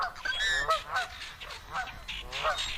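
Canada geese, including young ones, honking at a wetland, with a quick series of nasal honks in several bursts, close and moderately loud over a faint outdoor background.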